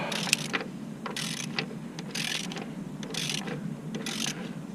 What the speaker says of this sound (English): Really like this extendable ratchet for situations like this to give you some more leverage